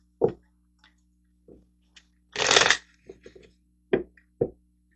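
Tarot cards being shuffled in short bursts, with one longer riffling run in the middle and a few quieter taps and flicks around it, close and fairly soft with no voices.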